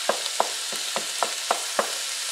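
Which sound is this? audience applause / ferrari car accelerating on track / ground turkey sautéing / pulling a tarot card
ground turkey sautéing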